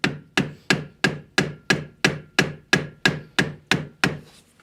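A small hammer taps a screwdriver to split open a corroded battery terminal connector, about a dozen sharp, evenly spaced metallic knocks, close and clear, each fading quickly.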